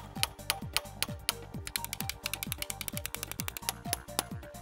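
Rapid ratcheting clicks from a 32 mm wrench loosening a camshaft solenoid on a BMW engine, in close, quick bursts with brief pauses, no talking.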